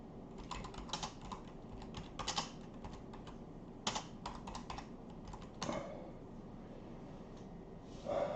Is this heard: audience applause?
no